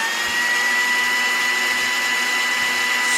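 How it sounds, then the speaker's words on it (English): A blender whirs continuously at high speed, a loud steady motor drone with a bright whine throughout, close by and without talk. "Is that a blender?"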